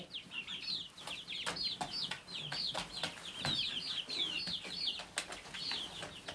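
Chickens in a coop, including small gray birds of the flock, give repeated soft clucks and chirps amid wing flutters and light rustling at moderate distance.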